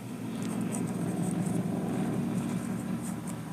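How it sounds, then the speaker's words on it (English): A helicopter passes overhead with a steady, droning low rotor and engine roar, fairly loud and continuous throughout with no talking. "Helicopter."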